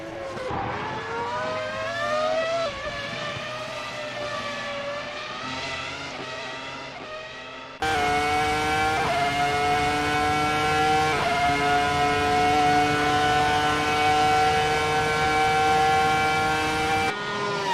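A mid-90s-style race car engine in a racing video game screams steadily at high revs, with a sharp jump in pitch and loudness midway and small gear-shift dips, with no talk.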